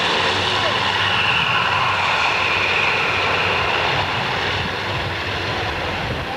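A loud, steady roar of an aircraft engine at high power during takeoff at an airshow, continuous and close, with a faint background voice.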